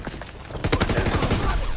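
Gunfire in the video game Call of Duty WWII, a rapid burst of close, loud shots in a quick staccato rhythm.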